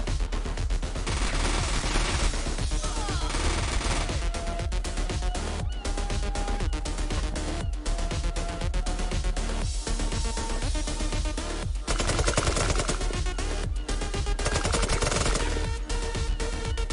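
Rapid bursts of gunfire from Xpiratez ring out across a chaotic game battle, dense staccato shots repeating throughout with brief gaps, loud and close.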